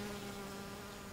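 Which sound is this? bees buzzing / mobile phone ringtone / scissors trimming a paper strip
bees buzzing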